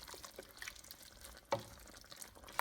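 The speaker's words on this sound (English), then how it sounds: "And we want to stir this all around like this." A spoon stirs turkey bolognese sauce with dry herbs in a pot, making faint wet scrapes and soft liquid squelches, with one sharper knock of the utensil midway, quiet and close.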